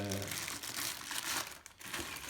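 Plastic bag crinkling and rustling close up as it is pulled off a large Uncharted 4 collector's edition figure, continuous crackly handling noise with low voice-like murmur beneath.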